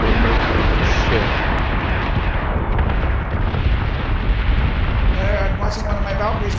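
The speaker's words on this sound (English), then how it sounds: "Yeah, I'm watching one of my Valkyries blow up" A Valkyrie ship blows up in a Battlestar Galactica space battle game against a Cylon fleet, heard as a loud, continuous rumbling blast of explosion noise with crackling bursts layered on top.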